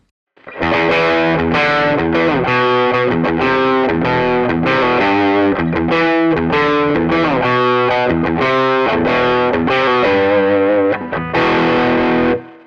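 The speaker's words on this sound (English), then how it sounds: "So you're hearing just one single guitar here" Loud, heavily distorted electric guitar played through a Tonex pedal plays a driving riff alone, thick and fuzzy, sustaining steadily before cutting off at the end.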